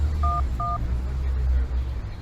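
Two short telephone keypad dialing tones beep in quick succession from a phone booth, clear and close, followed by low background rumble.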